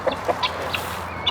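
Hens clucking close by on a farm, several short, quick clucks in an uneven rhythm over a soft background.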